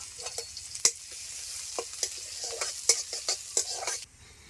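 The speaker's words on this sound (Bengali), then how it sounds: "তেল গরম হয়ে গেছে, দিয়ে দিচ্ছি রসুন কুচি।" Chopped garlic sizzles in hot mustard oil in a kadai, a steady crackle under sharp, irregular clinks and scrapes of a spatula against the pan, close and clear.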